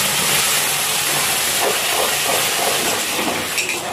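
Potatoes and ridge gourd peels tipped into a hot pan of oil with fried cumin seeds give off a steady, dense hiss of sizzling that holds evenly throughout, close and fairly loud with no talking.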